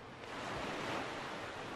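Ocean waves in The Legend of Zelda: The Wind Waker make a steady, broad rushing surge mixed with wind, filling the whole stretch without pause and heard alone with no voices.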